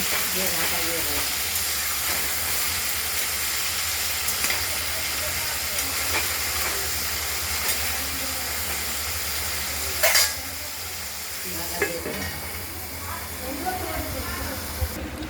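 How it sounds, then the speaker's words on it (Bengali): Ridge gourd with salt and a little turmeric sizzles and hisses in a kadai as it is stirred, a steady frying hiss with occasional scrapes. A voice talks over the cooking. "এটা আমরা কিছুক্ষণ কড়াইতে নাড়াচাড়া দেব।"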